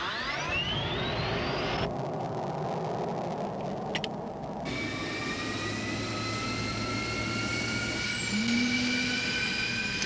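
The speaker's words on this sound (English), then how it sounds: "another switch to start the jet fuel starter" An F-16C jet fuel starter spooling up to start the engine, a loud steady whine with rising tones and rumbling turbine roar, continuous throughout and heard alone.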